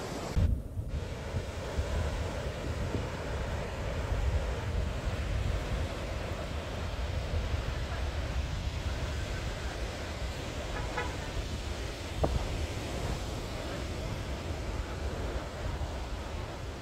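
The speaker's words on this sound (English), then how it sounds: "The beach and the waves here coming in at Isabela Island." Ocean waves wash steadily onto a beach on Isabela Island in the Galapagos, a continuous roar of surf mixed with wind buffeting the microphone, with no voices.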